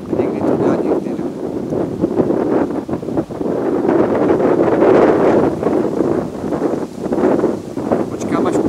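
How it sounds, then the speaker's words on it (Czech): Strong wind buffets and roars across the microphone in a steady, loud rush that swells and eases without pause throughout. "Počkám, až přefoukne ten vítr."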